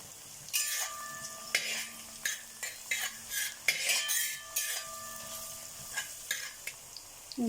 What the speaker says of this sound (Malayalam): കുറച്ച് കറിവേപ്പിലയും കൂടിയിട്ട് വഴറ്റിയെടുക്കാം.